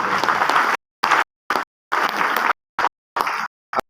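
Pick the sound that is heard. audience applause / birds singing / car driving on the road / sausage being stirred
audience applause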